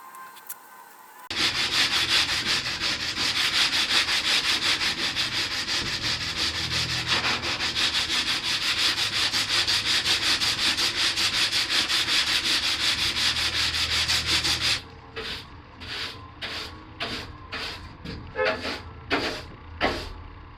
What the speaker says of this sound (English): So I am going to put on my gear and I'm going to start sanding.